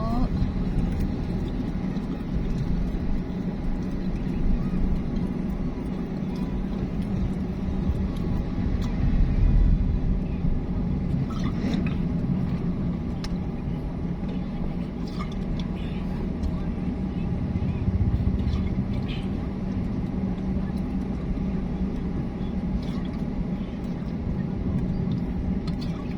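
Steady road traffic heard from inside a moving vehicle on a Philippine provincial highway, a continuous low engine and tyre rumble with faint passing vehicles, talk occasionally over it.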